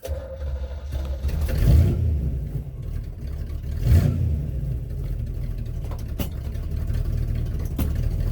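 A 1964 Chevrolet Impala with a column shift and manual clutch cranks and runs after a fuel filter replacement, a low rumbling engine with two surging revs, then settling into a steady idle with a few clicks, no talk.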